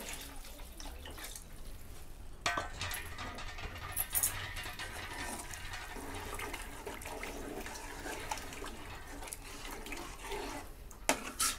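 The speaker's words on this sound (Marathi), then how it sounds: "ह्यात आपल्याला जास्त पाणी वतायचं नाही, थोडंसंच पाणी वतायचं आहे।" Lukewarm water poured into a pan of Maharashtrian potato curry (batata rassa bhaji), a steady watery splashing and trickling running throughout, fairly close, with a few brief clinks and louder splashes near the start and end.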